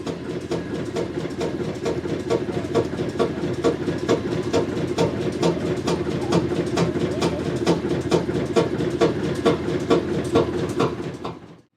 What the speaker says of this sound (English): Couldn't resist one more stationary engine.